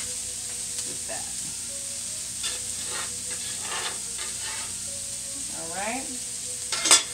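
Plant-based spaghetti sauce ingredients stirred in a pan, with a low, even sizzle and soft scraping strokes while a voice speaks briefly, ending on a sharper clatter.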